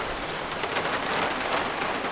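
Steady rain falling close by outside a garage, a dense even patter with no voices.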